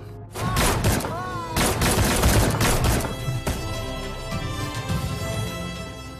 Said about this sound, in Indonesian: Jai dan Satya bahu-membahu menembaki Tuan Josi